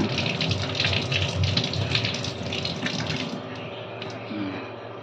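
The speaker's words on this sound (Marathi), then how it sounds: "पाण्यामध्ये ही धुवून घेते" Cut onion being washed in water, a continuous close sloshing and splashing with running-water wash, fairly steady and moderately loud, tapering slightly near the end.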